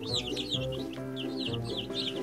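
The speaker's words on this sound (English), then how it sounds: "Feed the hungry baby birds with some seeds." Hungry baby birds in a nest chirping and peeping rapidly in repeated bursts over a low clucking, busy cartoon-style chatter with no speech.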